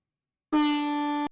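A train horn from the Densha de GO train-driving video game gives a single steady blast of about three-quarters of a second. It starts and stops sharply and sounds loud and close, with nothing else heard.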